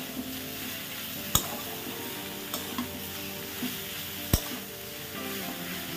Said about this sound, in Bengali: হলুদ, দিয়ে শাপলাটা আমি ভালো করে নাড়িয়ে নেব।